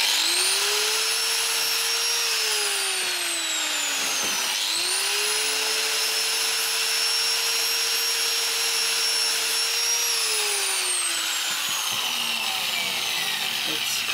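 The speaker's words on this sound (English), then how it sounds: "just going to use a flappy disc on it because it's made out of alloy. It should cut pretty easily." Flap disc grinding an alloy motorcycle foot peg held in a vise, a loud sustained whine that dips briefly in pitch mid-cut and then resumes at an even pitch.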